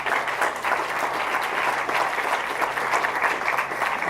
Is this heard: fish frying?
no